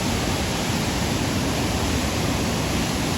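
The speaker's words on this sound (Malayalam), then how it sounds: "ഒരു രക്ഷയില്ലാത്ത വെള്ളച്ചാട്ടം കേട്ടോ" Even, unbroken rush of water from the Chappanthottam waterfall, a little-known falls near Wayanad, loud and near, with no talking over it.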